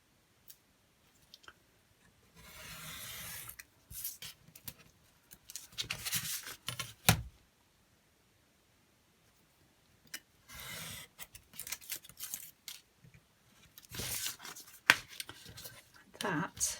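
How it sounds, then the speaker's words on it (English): Scissors cut the edges off paper journal pages in a quiet room, giving several bursts of crisp snipping and rustling paper separated by silent gaps. "I'll cut these 3 edges off."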